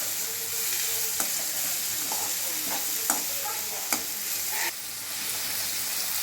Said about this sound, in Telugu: అవన్నీ యాడ్ చేసుకొని వాటిని కూడా బ్రౌన్ కలర్ వచ్చే వరకు ఫ్రై చేసుకోవాలి